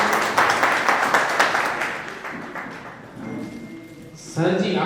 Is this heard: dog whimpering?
no